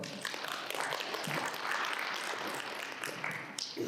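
Audience applause fills a hall after a university professor's lecture at a Gyeonggi Province village community activists' day event, a steady, dense patter of clapping running several seconds without speech.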